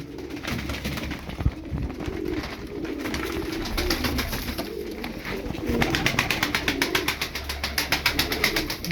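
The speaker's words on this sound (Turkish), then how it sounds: "Bakın yine kanat çalıştıran bir kuş" Pigeons coo repeatedly at close range while wings flap in a fast rhythmic burst that grows louder toward the end as a flock is flown outdoors.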